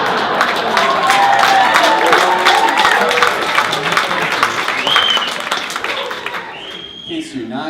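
A stand-up comedy crowd bursts into loud, dense applause and cheering with whoops, sustained for several seconds before thinning out toward the end.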